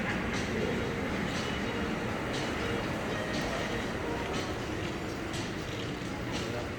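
Atlanta airport underground train running between concourses, a steady rumbling ride with recurring clicks from the rails and a continuous roar of the car throughout.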